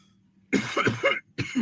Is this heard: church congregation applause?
no